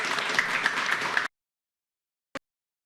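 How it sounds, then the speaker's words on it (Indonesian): A studio audience at a televised talk show applauds the guests, dense clapping for just over a second before cutting to silence, with one brief faint sound later. "Kita tepuk tangan dulu untuk para narasumber."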